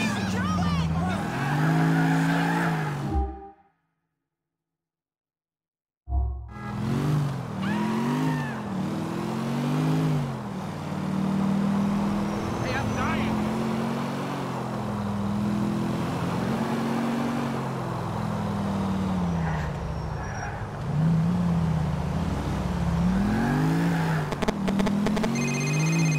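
A car driven in Grand Theft Auto 4 revs and growls through repeated rising and falling engine surges, loud and close, broken by a brief silent gap, with voices and game noise mixed in.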